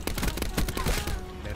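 Rapid bursts of automatic gunfire from Call of Duty Black Ops 4, fired while the player moves, crackle in quick succession through the first second before trailing off.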